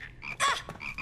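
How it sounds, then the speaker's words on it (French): Frogs croak in a cartoon scene, a few short raspy calls with one louder burst in the middle, close and alone without talk. "libérez les grenouilles, espèce de justicier bidon"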